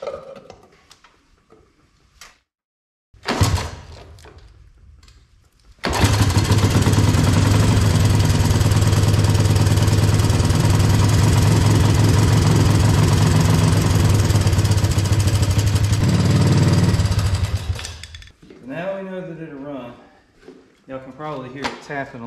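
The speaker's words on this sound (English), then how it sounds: "Probably hear it tapping a little bit." Honda ATC three-wheeler engine with worn valves being pull-started, then running loudly at a steady idle for about twelve seconds before cutting out; the light valve tapping is buried in the engine drone, with brief talk afterward.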